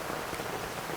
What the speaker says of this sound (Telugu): ఇప్పుడు వడగళ్ళ వాన కూడా ఎక్కువైంది